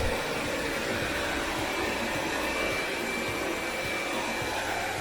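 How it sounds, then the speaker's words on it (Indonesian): A steady, loud whooshing suction hum from an Umeda Tomo R8 robot vacuum cleaner running at max suction, continuous and unchanging throughout. "dan max untuk hasil vakum yang paling kuat"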